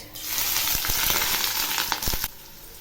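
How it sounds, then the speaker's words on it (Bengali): Chopped onions and black cumin hit hot mustard oil in a wok, bursting into a loud, steady sizzle with a few clinks of a stirring utensil against the pan before it quietens. "এই পেঁয়াজগুলো একটু হালকা করে ভেজে নেব।"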